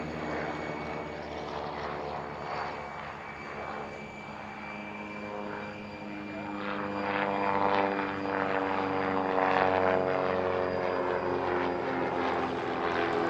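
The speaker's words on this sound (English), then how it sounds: "The aircraft makes a rather unique sound, as you can hear." A push-pull twin-engine propeller plane drones overhead at an airshow at Paris-Villaroche, a steady throbbing buzz with a slightly beating tone that swells louder as it nears.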